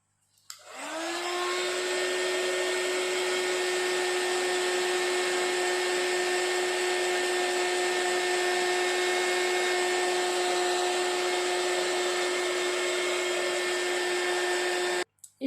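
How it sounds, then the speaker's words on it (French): Heat gun blowing steadily to dry embossing work on a handmade Christmas card, a loud continuous whirring hum with a whining tone that starts abruptly, holds unchanged and cuts off at the end, with no talking. "je vais sécher ça avec le heat gun"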